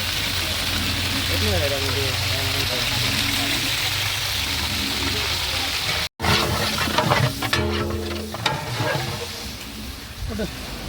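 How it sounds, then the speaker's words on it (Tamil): Onions sizzle loudly in hot oil with cinnamon, cloves and cardamom for chicken dum biryani, a steady frying hiss that briefly cuts out and then returns with stirring and scraping, while a person talks over it. "நல்லா எண்ணெய் நல்லா காஞ்ச பிறகு நம்ம பட்டை, லவங்கம், கிராம்பு, ஏலக்காய் சேர்த்ததுக்கப்புறம் உடனே நம்ம வெட்டி வச்ச வெங்காயத்தை சேர்த்துக்குவோம்."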